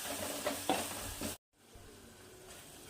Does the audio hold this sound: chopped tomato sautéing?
yes